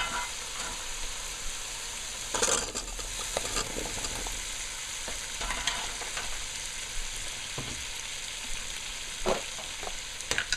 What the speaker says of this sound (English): It's frying down nicely.